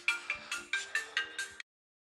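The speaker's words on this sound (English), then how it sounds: "Oh, I got a phone call." A phone ringtone for an incoming call, heard during a GT Europe racing sim round at Indianapolis: seven quick, evenly spaced bright electronic chirps over about a second and a half, close and clear, then silence.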